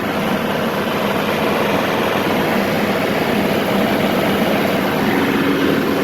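A tractor running with a Woods mower attached gives a steady, loud, low engine drone with a rough mechanical rumble that holds constant throughout, with no distinct change as the clutch engages.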